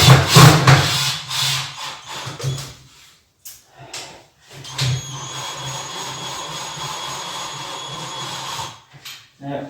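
A drill bores into the wood of a model railway baseboard, several loud grinding and rubbing bursts with pauses between them, close up and with no talking.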